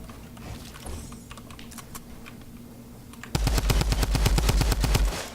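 Rapid automatic gunfire in the Fortnite video game: a dense, loud burst of evenly spaced shots in the second half, preceded by scattered quieter clicks and distant pops over a low game hum.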